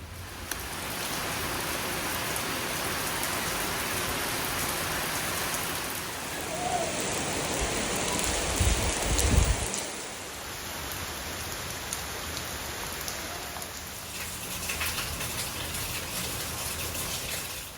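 Steady rain falls through the whole stretch on an evening at a home in Kerala, a dense continuous hiss with a brief heavier gush midway, no voices over it.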